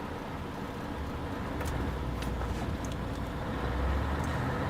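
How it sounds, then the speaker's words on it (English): A Scania 143 500 truck with a 14.0-litre 500 hp V8 drives along in a steady, loud, continuous engine and road drone, with no one talking. "But that was truly real truck driving."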